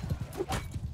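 Horse hooves clip-clop in a Mount & Blade II: Bannerlord battle, a quick run of soft, muffled thuds from cavalry with a brief whinny mixed in, fairly quiet and continuous over one second.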